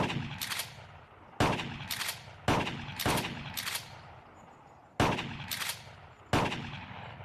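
Gunshots in a VR shooting video game: six sharp single shots fire at irregular intervals, each ringing with a short decaying tail, loud and close with no talk.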